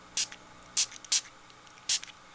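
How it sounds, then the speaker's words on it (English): Four short hissing bursts of a spray mister, evenly separated with brief quiet gaps, close by and fairly soft. "And I'm going to use my mister. And I'm going to spray these."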